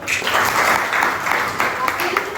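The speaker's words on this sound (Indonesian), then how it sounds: "Oke, tepuk tangan dulu dong." A class of university students applauds steadily for a couple of seconds, the clapping dense and fairly close, with some voices mixed in.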